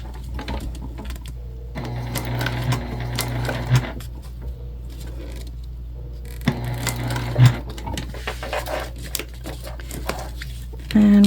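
A sewing machine top stitching a travel sling bag runs in two short bursts with clicks and light handling noises between, over a steady low hum, fairly close.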